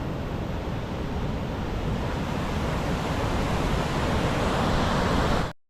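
Bhatinda waterfall roars as a loud, steady, broadband rush of falling water, unbroken and close, without voices, until it cuts off abruptly at the end.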